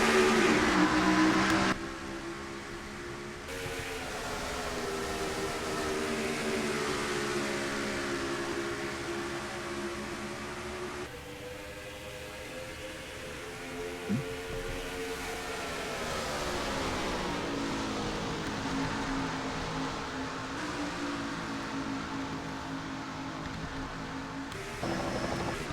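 Race cars in the NASCAR Racing 2003 game run a green-flag race at Colorado, a sustained engine drone whose pitch rises and falls in long sweeps as the field laps, moderately quiet, no talking.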